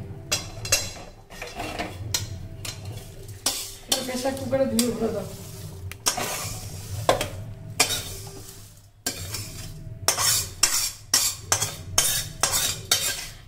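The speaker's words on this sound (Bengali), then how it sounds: "এই সিমাইটা দুধের ভেতরে দিয়ে দেবে।" Fried vermicelli is stirred into milk in a pot while making payesh, with repeated close scraping and clinking of a spoon against the metal, faint bubbling and sizzling beneath, and some brief talk.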